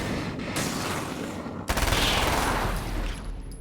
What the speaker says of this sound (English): Oh, it's flashbang